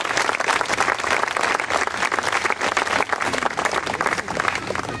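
Loud, dense applause from an audience at an anniversary ceremony for a town twinning, continuous hand clapping held at an even level for several seconds, with no speech over it.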